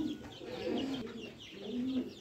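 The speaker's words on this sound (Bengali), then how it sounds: "এই যে এখানে ব্রাহ্মা মুরগি, আমেরিকান লাইট ব্রাহ্মা, এগুলো বড় সাইজের।" American Light Brahma chicks, a large-sized chicken breed kept at home, give soft, faint peeping and cooing calls in short, scattered bursts against a quiet background.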